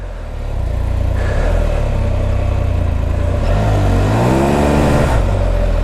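A 2014 Can-Am Spyder with the 1330 engine accelerates in wet conditions, its steady mid-pitched engine note climbing through the revs as it pulls away, close and loud, with a rising whine near the end.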